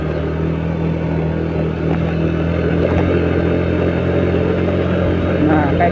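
A Honda Beat motorcycle accelerates up a slippery mountain road, its engine droning loudly and steadily close by with some rattling, while someone talks over it.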